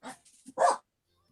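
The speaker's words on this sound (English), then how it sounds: "Every time I unmute, they start barking again" A dog barks in a few sharp, close bursts over about a second, with a short whimpering yelp between them, then falls silent, and no talk is heard.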